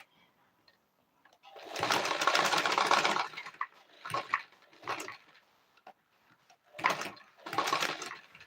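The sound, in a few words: sewing machine stitching a kids dress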